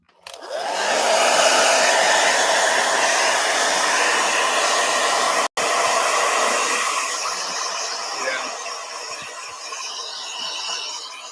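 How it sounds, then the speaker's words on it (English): A hair blow dryer runs steadily and loudly, drying an acrylic gouache painting, with a broad continuous whoosh that cuts out for an instant midway and then resumes, easing slightly toward the end. "All right, blow dryer."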